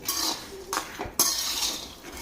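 Peanuts roasting dry in a pan at home are stirred with a metal spoon, giving scraping clinks and sharp knocks against the pan over a soft crackling hiss, close and without talk.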